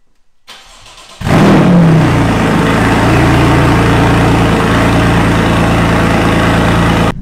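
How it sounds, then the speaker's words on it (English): A Porsche 981 Cayman S engine with a custom straight-pipe split exhaust cranks, fires up and settles into a loud, deep, rumbling idle with a raw, unmuffled exhaust tone, very close. "just sitting at idle, it sounds incredible"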